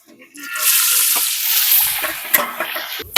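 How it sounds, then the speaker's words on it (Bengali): Green peas hit a hot pan and fry with a loud, close, hissing sizzle that holds steady for a few seconds. A few light clinks of utensils break through near the end. "মটরশুঁটিটা ভেজে নেবো।"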